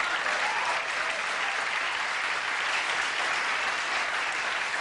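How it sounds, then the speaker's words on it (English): Studio audience applause on a 1983 late-night talk show, Late Night with David Letterman: a thick, steady wash of clapping that stays loud and even throughout. "sure, you can applaud"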